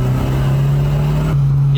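A Volvo engine fitted with a standalone ECU pulls hard under boost on a road, a loud steady drone heard close from inside the car, with a brief shift in tone near the end.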